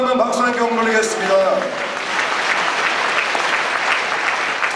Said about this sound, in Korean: 박수 함께 올리겠습니다